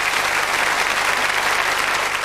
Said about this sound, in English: a special round of applause from the audience